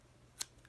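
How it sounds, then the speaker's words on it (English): Knitting scissors make a single quick, crisp snip through a yarn tail on a knit placemat, close and isolated against near silence. "all we do is get our scissors out"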